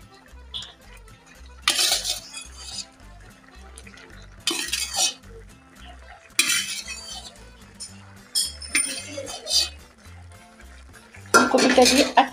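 Sago khichuri with fried cauliflower being stirred in a metal pan, with repeated scraping and clinking of a spoon against the pan in irregular bursts, close and clear over a faint low background.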